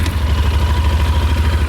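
A motorcycle coasting with no clutch or brake, its engine braking as a steady low drone with a gentle pulsing rhythm, close and fairly loud throughout.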